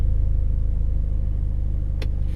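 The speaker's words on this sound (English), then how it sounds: "Put the car in super sport mode," Engine of a Mitsubishi Evo X MR in super sport mode, heard from inside while driving: a loud, steady low rumble with an even pulsing drone and no talk.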